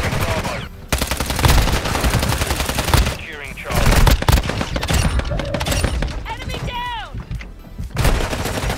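Repeated pistol gunfire in Warzone Mobile on Rebirth Island comes in sharp, fast bursts with brief pauses between them. Game sound effects and speech-like callouts are mixed in over the shots.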